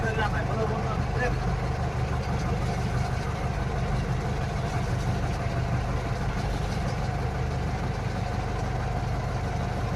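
A motorboat engine drones steadily on the Alleppey backwaters in Kerala, a continuous low idling rumble with water noise that fills the whole stretch, while voices talk over it.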